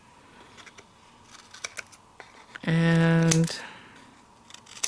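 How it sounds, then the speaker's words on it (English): Scissors cut through scrapbooking paper in one loud, sustained snip close by, with soft handling noises and a brief spoken word around it. "Okay, so I'm going to cut this"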